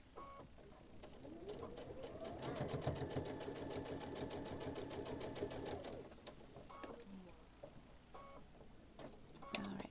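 A sewing machine stitches a seam in a steady fast whirring run for about four seconds, then stops, leaving quiet room noise with faint bird-like chirps.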